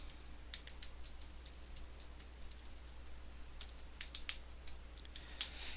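Rapid keyboard typing, close and clear, with irregular bursts of keystrokes over a faint steady hum and no talking.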